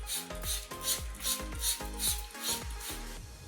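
A trigger spray bottle misting water onto an old pillowcase, pumped about eight times in a steady rhythm, each squeeze giving a short hissing spray with a faint mechanical click, close and alone.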